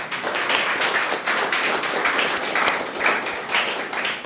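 A room full of people applauding for a project team's presentation, a dense, steady wash of many hands clapping close by with no voices over it.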